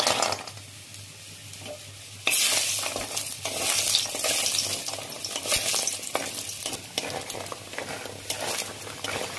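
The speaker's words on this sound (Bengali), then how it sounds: "বড়িগুলো ভেজে নেবো।" Lentil badi frying in hot mustard oil in a wok, a loud crackling sizzle that jumps up sharply partway through and keeps hissing, with stirring scrapes and clinks over the top.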